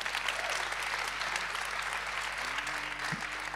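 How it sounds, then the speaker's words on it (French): Steady, dense audience applause at a Dalida Institute event, sustained clapping from a crowd for several seconds, fairly distant and even, with no voices over it. "vous pouvez les applaudir."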